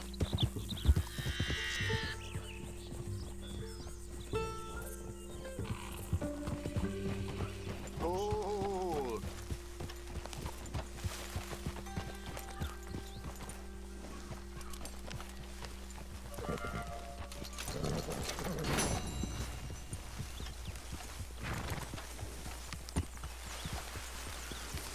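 A horse's hooves clip-clop steadily in Red Dead Redemption 2, a close, even walking rhythm over a soft backdrop of game music, with a short whinny partway through.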